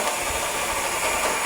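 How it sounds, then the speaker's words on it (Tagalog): Construction machinery runs steadily at a building site, a continuous broadband engine drone with hiss, fairly close and unbroken, with no voices over it. "Tunog ng mga makina."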